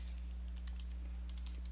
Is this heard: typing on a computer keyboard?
yes